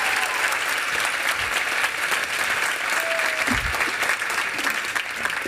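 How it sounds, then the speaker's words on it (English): A big conference audience at an Isagenix event gives a long, loud round of applause for the company leaders, steady massed clapping with some crowd murmur underneath. "So let's give them another massive round of applause."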